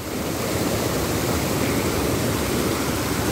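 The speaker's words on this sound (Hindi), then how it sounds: "देखिए बहुत ही तेज धार बह रहा है और काफ़ी तेज़ी से पानी आ रहा है" Fast-flowing stream rushing through a village, a steady, dense broadband roar of water running continuously and close, with no voices.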